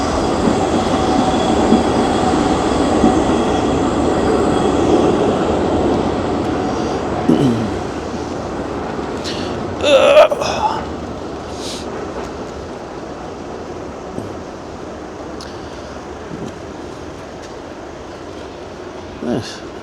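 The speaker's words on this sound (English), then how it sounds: "I didn't want to finish this until I see one of these 1980 trains go by" A 1980s-era train rolls past on Charles Bridge in Prague, a steady rumbling rush with clattering wheels and a squeal around the midpoint, heard from close by amid street ambience.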